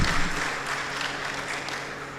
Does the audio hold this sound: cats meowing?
no